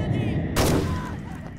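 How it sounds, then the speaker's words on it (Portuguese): A single sharp gunshot cracks in the WWI survival horror game Conscript, a sudden loud blast with a short ringing tail over low background game ambience. "Vou tentar o um tiro nele aqui sem ele me ver."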